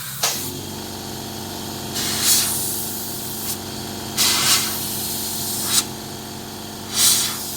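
Paint spray gun with a 0.8 nozzle firing repeated bursts of hissing spray, five or six roughly one-second blasts close to the microphone over a steady low compressor hum.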